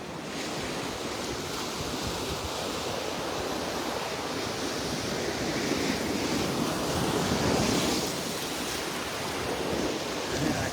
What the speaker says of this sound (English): The tide is getting higher now, starting to push all the shells around.